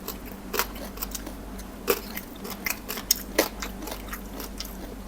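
Crispy deep-fried rice-field crab tossed in tamarind sauce is bitten and chewed close up, giving a series of irregular sharp crunches and crackles over quiet background.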